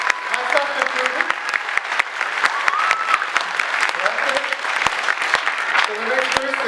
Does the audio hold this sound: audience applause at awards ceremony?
yes